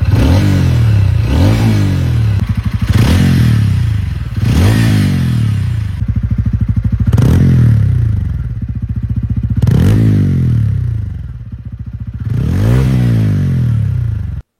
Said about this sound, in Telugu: రియల్గా నేను వింటున్నప్పుడు ఎగ్జాస్ట్ నోట్ అయితే చాలా క్రిస్పీగా, లౌడ్గా అండ్ రైడ్ చేసేటప్పుడు చాలా ఇంప్రెసివ్గా ఉంటుందేమో అనిపిస్తుంది